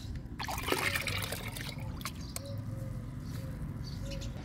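Water steeped for two days with coconut fiber trickles and dribbles in small splashes onto the soil of an okra bed, steady and close, with faint birds in the background.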